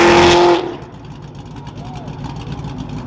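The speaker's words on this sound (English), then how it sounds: "That was a CTSV. That was a Camaro." A Cadillac CTS-V and a Camaro drive past through a flooded parking lot, a loud rush of engine and spray that cuts off after half a second, then fades into a quieter rumble with people talking.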